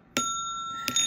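Two bright metallic bell rings with a long ringing tone, close and clear, a short pause between strikes.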